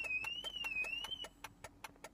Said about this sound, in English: the main issue is the alarm's going off, the indicators are going off, and the hazard light's going off